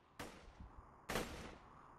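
Two loud, sharp gunshots ring out in Borderlands, a first-person shooter video game, about a second apart, each with a short decaying tail and no talking over them.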